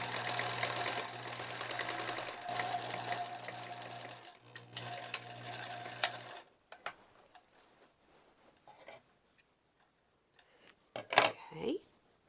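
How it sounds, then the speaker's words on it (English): A sewing machine stitching the bottom of a fabric bonnet tie, running steadily and fast up close for several seconds before stopping, followed by quieter handling sounds and a brief rustle. "I'm just going to come back and do the same thing and sew the bottom part of the tie."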